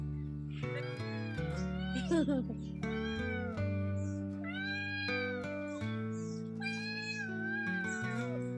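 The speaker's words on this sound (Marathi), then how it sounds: "तर आज सुट्टी असल्यामुळं ही छकुली पण ते मांजराला इतकं येड्यात काढी ती" A cat meows repeatedly in long, drawn-out, rising and falling cries, close and clear, several calls in a row.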